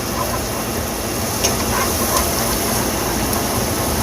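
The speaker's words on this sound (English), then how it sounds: "we're just going to saute these in the butter" Chopped onion and celery sauté in butter in a hot pan, giving a continuous loud, dense sizzle and hiss with no pauses.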